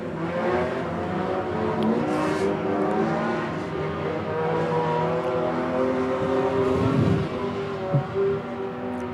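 Race cars roar around the Meeanee Speedway dirt track during an Easter Friday meeting, with a small Honda leading the field; loud, continuous engine drone swells as cars sweep past close by, without talk.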